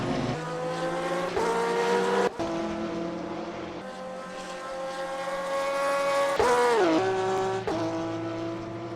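Porsche and Aston Martin GT3 race cars in a sim racing game at Circuit de Spa-Francorchamps, engines droning loud and continuous with rising pitch and sharp gear-shift drops, close and with no talking.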